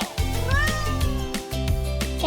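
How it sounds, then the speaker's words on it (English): A cat meows loudly and clearly several times in close succession, drawn-out vocal cries over a steady backing tone. "Cat says meow."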